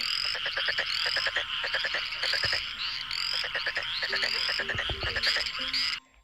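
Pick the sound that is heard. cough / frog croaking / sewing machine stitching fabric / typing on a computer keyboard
frog croaking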